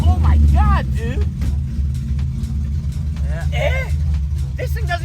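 A Datsun 240Z idling just after an engine swap, a deep steady rumble with small surges, close and loud, under excited shouting and talk.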